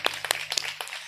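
A church congregation at a Pentecost festival service claps in scattered, uneven bursts, a brief round of close hand claps with no speech over it.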